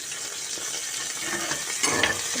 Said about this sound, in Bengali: তাকে একটু ভেজে নিলাম।